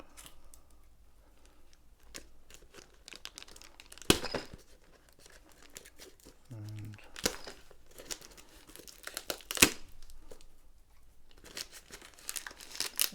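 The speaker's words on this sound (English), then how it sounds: "Just cut off the sellotape." Sellotape is cut and torn off a cardboard parcel box, giving scattered close snips, crinkles and rips with a few sharper tearing bursts.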